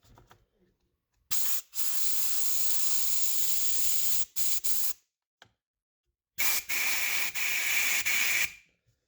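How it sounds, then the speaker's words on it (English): Compressed air blasts through a chainsaw fuel line removed from the carburetor in two loud hissing bursts, the first about three seconds long with a brief break, then a shorter second burst after a pause, close up. "I'm going to shoot it with some compressed air"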